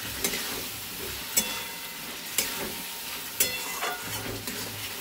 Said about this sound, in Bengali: এবার ডিমটা আর আলুটা এর মধ্যে দিয়ে দিচ্ছি। এটা দিয়ে একসঙ্গে আর একবার ভালো করে কষে নিই।